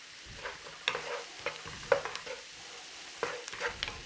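Lamb mince sizzles quietly in a pan with rosemary, thyme, onions and garlic while a utensil stirs and taps in short, irregular scrapes, close and fairly soft, with no talk.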